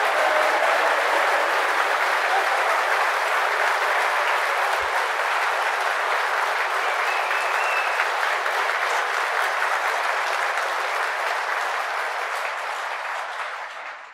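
A political audience at a Reform UK event claps steadily and loudly for about fourteen seconds, a broad, even roar of many hands that barely fades until the very end.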